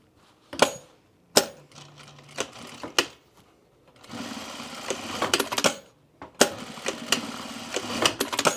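A sewing machine stitches elastic onto a pair of pants in close, loud bursts of rapid mechanical chatter. Each run of several seconds is separated by short pauses and sharp clicks.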